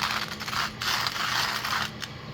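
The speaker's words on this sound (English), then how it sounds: "Now all I'm going to do here is grind the coffee while that is coming up to a boil." Coffee beans being ground in a grinder, a steady close whirring grind with a few brief dips and pauses, moderately quiet and with no voices.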